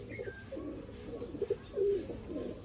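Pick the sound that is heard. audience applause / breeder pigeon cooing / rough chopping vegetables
breeder pigeon cooing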